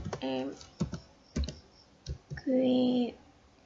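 Typing and clicking on a computer keyboard in an accounting program: several sharp key clicks spaced apart, mixed with a person talking.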